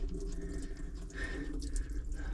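Water runs and trickles out of a sunken boat, likely through an open valve, a faint, close, uneven splashing flow with small drips, no voices.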